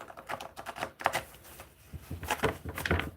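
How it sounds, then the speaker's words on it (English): A deck of cards is shuffled in several rapid bursts of crisp, close ticking and flicking with short pauses between, with no talking. "I'm going to shuffle these cards"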